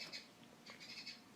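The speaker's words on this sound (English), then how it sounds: "sorry about my birds chirping in the background" Pet birds chirping indoors, faint high tweets in a few short bursts over a quiet room background.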